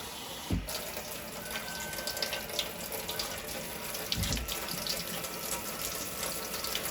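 Tap water pouring steadily into a liquid measuring cup while measuring out cups of water for boiling, a continuous close splashing stream with a couple of faint low knocks.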